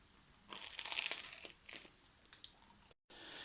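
Homemade olive baguette with a crunchy crust is bitten and chewed. The crackling crunches are dense at first, then come in sparser bursts, with a short gap near the end.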